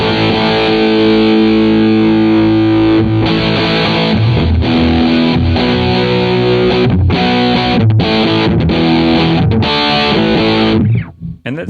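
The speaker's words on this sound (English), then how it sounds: "Now the fuzz. The Azor fuzz is a big muff clone." Electric guitar through an Azor fuzz pedal, a Big Muff clone, plays loud, thick, woolly distorted chords and notes that sustain and change pitch, ending with a few choppy stops.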